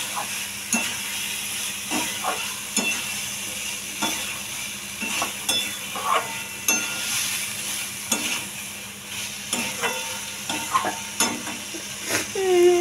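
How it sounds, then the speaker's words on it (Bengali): Fried cauliflower stirred in a hot pan, a steady sizzle with repeated regular scrapes and knocks of the spatula against the pan, loud and close with no talking. "এবার ফুলকপিগুলো একটু নাড়িয়ে নেব।"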